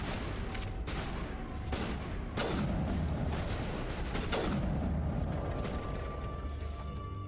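Sniper rifle fire in Mass Effect, a few sharp booming shots with long decaying tails over a continuous dense battle din of other gunfire and mechanical noise.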